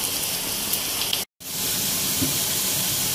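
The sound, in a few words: onions frying in oil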